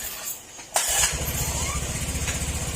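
A Honda motorcycle engine kicks into life with a sharp starting burst, then settles into a steady, even idle that carries on close by, with no talk over it.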